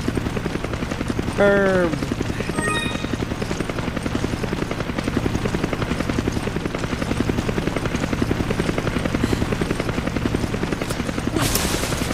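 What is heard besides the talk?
helicopter flying overhead in video game Resident Evil 5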